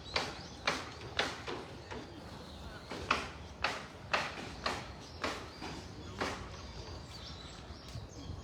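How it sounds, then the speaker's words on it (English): Birds call in Shinjuku Gyoen garden, Tokyo, sounding as a series of sharp, evenly spaced chirps against quiet outdoor ambience, with no voices. "I hope everyone can hear the birds."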